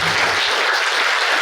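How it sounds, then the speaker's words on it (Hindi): An audience at a Brahma Kumaris felicitation gathering in Karnal claps in a dense, loud burst of applause that lasts the whole moment, with no voices over it. "तो पुनः दीदी जी का हम जोरदार तालियों से"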